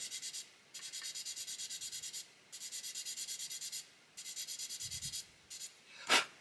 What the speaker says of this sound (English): So what I'm tempted to do here is sand this side away